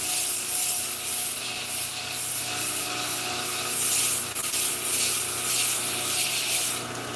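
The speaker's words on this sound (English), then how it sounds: "Use a little bit of scrubbing action on that." Steady abrasive scrubbing across the textured surface of a rasp knife during finishing, a continuous close rubbing hiss with slight rhythmic surges, no voices.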